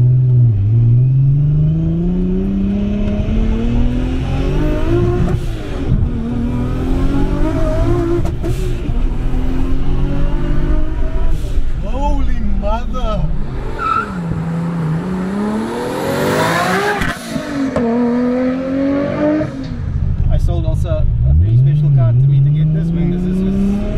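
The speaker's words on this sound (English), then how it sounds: "The Nissan R34 GTR." A Nissan R34 GTR revs hard through rising and falling engine sweeps. The loud, close sound climbs and drops repeatedly, with a harsh screeching burst partway through and a final rev near the end.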